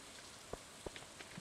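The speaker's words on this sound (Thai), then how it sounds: "วันนี้ฝนตก" Soft steady rain patters in the farming video game Stardew Valley, a faint hiss dotted with a few distinct droplet taps, heard alone and quiet.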